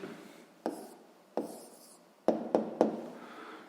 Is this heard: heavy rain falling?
no